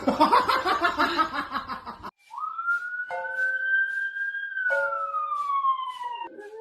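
A human voice imitates an ambulance siren in a long, smooth, rising and sustained wail, loud and close, following a burst of noisy clamour.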